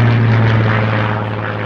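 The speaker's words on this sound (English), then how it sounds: "the Supermarine Spitfire." Supermarine Spitfire fighter plane from the Second World War in flight, its propeller engine a loud, steady droning roar close by that eases off slightly, with no talking.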